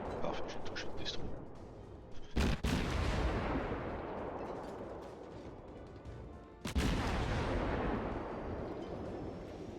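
Main guns of the German light cruiser Dresden fire in World of Warships: two loud, sharp booms about four seconds apart, each followed by a long rolling rumble that fades out.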